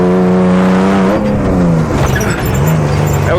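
Engine of a Baja car driving on a race track, loud and close throughout, with a steady revving drone that eases off midway and then builds again.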